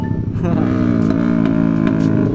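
A motorcycle engine revs loudly and steadily close by, its pitch rising and falling in a sustained roar with no talking over it.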